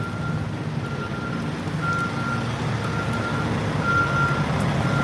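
A yard jockey truck reversing at a Walmart unloading yard sends out a steady series of evenly spaced beeps over a constant diesel engine rumble, moderately close.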